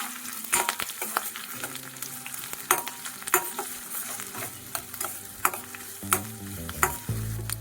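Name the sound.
sautéing onions, green chillies and curry leaves in pan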